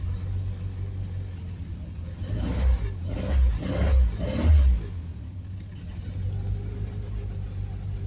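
A high-compression Triumph Spitfire 1500 engine, warmed up and running on a little choke, rumbles at a low idle and then gives a few quick throttle blips that swell and fall away before it settles back to a steady idle.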